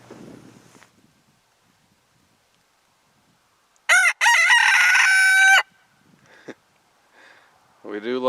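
A Leghorn rooster crows once, loud and close, a long strained call standing out from a quiet yard with faint clucks after it.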